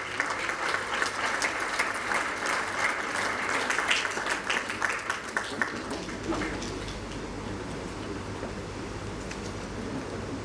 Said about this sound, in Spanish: Con un fuerte aplauso, démosle la bienvenida a Mauricio Canseco.